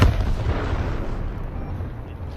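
HIMARS rocket artillery fires in a battlefield setting, a heavy, low rumbling roar that holds steady and slowly fades over a couple of seconds.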